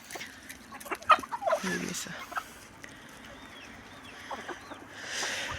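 A red rooster in a farmyard flock of chickens and turkeys gives a few short clucks close by, mixed with people talking and other birds calling faintly in the background.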